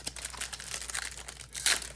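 Foil wrapper of an NBA Topps Chrome trading card pack crinkles and tears close up, a short run of dense rustling with a sharper rip near the end.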